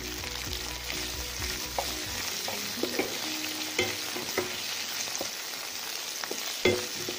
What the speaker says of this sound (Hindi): एक मिनट तक भून लेंगे इसे